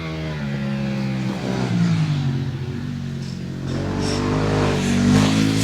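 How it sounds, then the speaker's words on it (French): A Ducati 1200 Multistrada motorcycle engine revs and accelerates through a mountain rally special stage in Corsica, rising and falling with gear changes, fairly loud and echoing across the slopes. "le moteur de la Ducati 1200 Multistrada de Christophe Velardi résonne"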